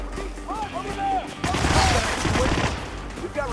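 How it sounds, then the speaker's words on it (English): Bursts of gunfire in the Hitman video game, a rapid volley of sharp shots in the middle of the clip, with radio-style voices talking before and after. "We've got reports of gunshots fired."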